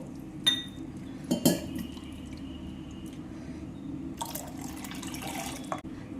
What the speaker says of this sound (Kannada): ಈಗ ಇಲ್ಲಿ ಇನ್ನೊಂದು ಕಪ್ ನೀರು ಹಾಕ್ತೇನೆ ನಾನು